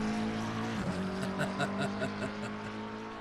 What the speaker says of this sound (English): The sound of the engine, baby.